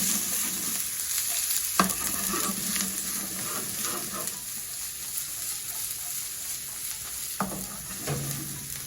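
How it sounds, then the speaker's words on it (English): Onions sauté in a hot pan for shakshuka with feta, a steady close sizzle broken by a couple of sharp clacks and scraping stirs. "We're gonna add our onions first, quickly saute them, get a little bit of color, and soften them up."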